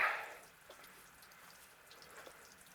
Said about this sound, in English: You can hear the water right there.